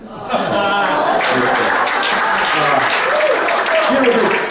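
Live audience at a magic and mentalism show gives a loud, sustained round of applause, dense clapping throughout with chuckles and a voice talking over it.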